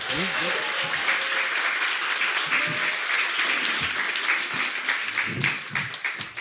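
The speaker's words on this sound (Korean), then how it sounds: "박수로 모시겠습니다." An audience at a Korean political talk event applauds steadily to welcome a guest, a dense wash of clapping that carries on throughout before starting to taper off at the end.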